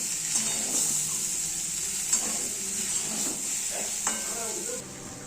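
Potatoes fry with turmeric in a hot pan for a vegetarian kabuli chickpea curry, giving a steady bright sizzle with occasional scraping stirs, close and continuous.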